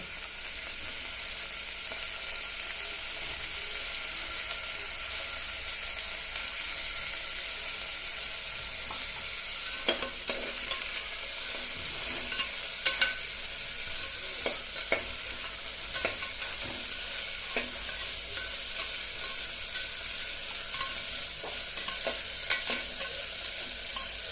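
Cut carrots and beans fry in a pan for kodo millet khichdi, a steady low sizzle with occasional clinks and scrapes of a spoon stirring, close and without talk.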